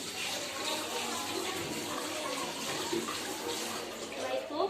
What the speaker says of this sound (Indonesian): Lalu bilas dengan air mengalir.